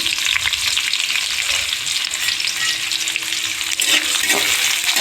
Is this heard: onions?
yes